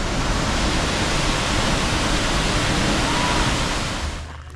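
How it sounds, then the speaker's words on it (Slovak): Waterfall cascades near Pakse, Laos, roaring as a loud, dense, unbroken wash of falling water that fades off at the very end, with no voices over it. "Nádherné kaskády. Pekný vodopád."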